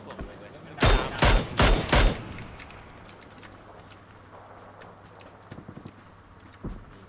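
Four rapid loud bursts of gunfire in PUBG close by, followed by fainter scattered distant shots and clicks over a low steady hum.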